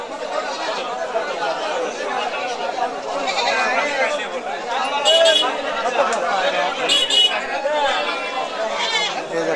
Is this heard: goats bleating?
yes